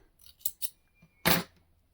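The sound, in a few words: scissors cutting yarn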